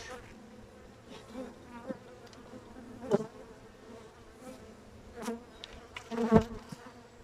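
Honeybees buzz continuously around a hive as the colony is moved into a new box, a steady insect drone with brief louder swells as bees pass close.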